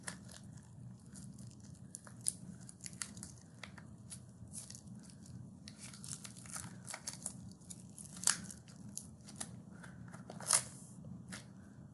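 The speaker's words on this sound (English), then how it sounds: "the other balloon's gonna go over the top of the balloon that I just filled up with flour" Latex balloon being stretched over a second balloon filled with flour, giving close, faint rubbery crinkling, squeaking and tearing-like rustles throughout, with a few sharper snaps.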